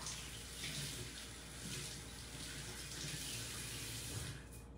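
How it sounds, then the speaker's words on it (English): Water runs steadily from a kitchen tap as a sponge cloth is rinsed under it after wiping mushrooms, a continuous close splashing hiss with small shifts as the cloth moves through the stream. "I'm gonna quickly give it a rinse and rinse that off."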